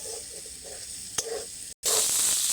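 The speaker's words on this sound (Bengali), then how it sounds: "দিয়ে আবারও এক দু মিনিটের জন্য এটাকে ভালোভাবে নেড়ে নিতে হবে" A rice and potato mixture with curry leaves sizzles in a pan as it is stirred, a close, steady frying hiss with soft scraping strokes and a brief break, with no voices.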